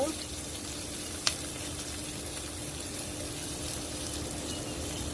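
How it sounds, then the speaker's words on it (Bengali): Onion and garlic fry in a pan, a soft, steady sizzle with a single sharp tap near the start, heard close and fairly quiet. "পেঁয়াজ রসুনটা ভেজে নিব। ভাজা হোক"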